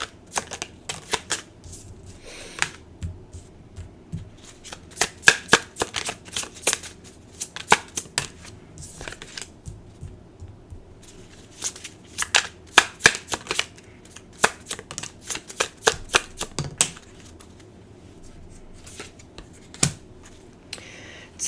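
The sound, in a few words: shuffling tarot cards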